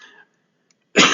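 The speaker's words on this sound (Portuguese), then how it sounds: "eu ainda estou tossindo o resto de gripe" A single close, harsh cough, lingering from the flu, bursts out after a brief murmur and near silence.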